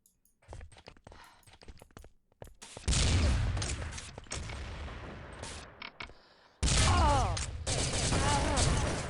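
Heavy bursts of gunfire and explosive blasts in a competitive team shooter match with SR8 rifles and grenades, arriving in dense, loud stretches between quieter scattered shots, with a commentator talking over the action.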